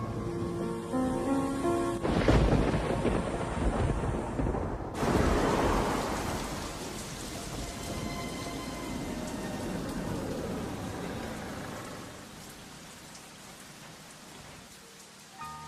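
Steady rain pours down with deep rumbles of thunder rolling underneath, loud and close at first, then easing into a softer continuous downpour.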